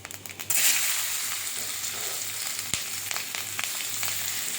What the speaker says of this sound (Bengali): পেঁয়াজটা ভাজা ভাজা করে নেব।